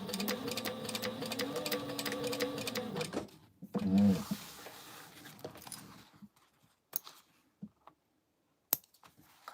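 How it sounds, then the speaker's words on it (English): A domestic sewing machine runs steadily, stay stitching the fabric pieces of a pouch at an eighth-inch seam allowance, then stops and leaves scattered small handling clicks and taps at close range. "I'm just going to stay stitch them an 1/8 of inch seam allowance"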